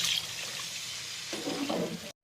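Coconut milk pours into a pot of ada pradhaman with a soft, steady splashing that swells partway through, then cuts off abruptly.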